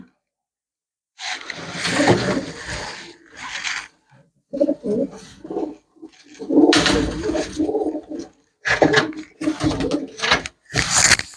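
Pigeons offered for sale coo in soft, throaty bursts close by, several calls repeating with short pauses between them, and no talk over them.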